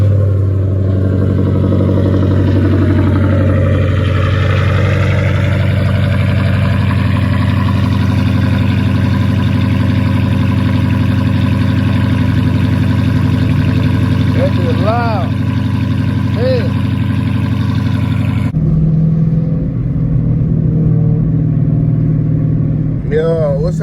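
A catless Dodge Challenger RT drives in traffic with a loud, deep exhaust drone that stays heavy and constant nearby, then drops to a lower idle rumble near the end, with talking over it.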